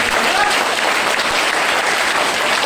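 Applause from an audience at a motivational speech, a dense, loud, continuous clapping that fills the whole moment.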